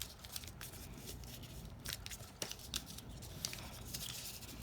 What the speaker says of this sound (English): So I'm going to make sure I tape it really good in the back.